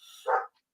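One short dog bark sounds at a moderate distance, a brief single yap that cuts off quickly into quiet.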